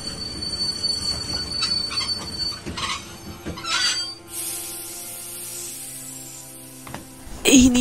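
Train wheels squealing in The Walking Dead Telltale game, a sustained high metallic screech over rumbling railcar noise that fades, then flares sharply again at the end, with no talk over it.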